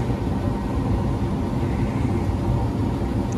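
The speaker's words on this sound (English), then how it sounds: "the blower motor should turn on" The blower motor of a Lennox packaged rooftop unit runs with a steady, low mechanical hum and airy rumble, constant throughout with no distinct start-up.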